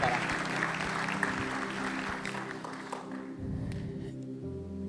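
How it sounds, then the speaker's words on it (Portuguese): A church youth congregation applauds during a sermon, a dense, steady clapping that fills the room throughout and thins near the end, with a voice speaking over it. "Vamos dar uma salva de palmas para Jesus."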